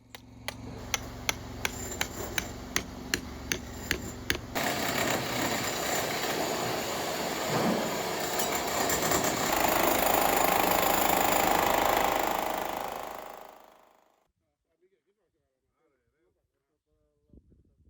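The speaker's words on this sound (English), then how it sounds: "I resolved to try and get it out by chiseling through it and trying to push it out" Chisel hammered against an old lime tree root during stone wall building work: a run of sharp, regular metallic strikes at the start, then a loud machine-like roar that swells and cuts off abruptly, leaving near silence.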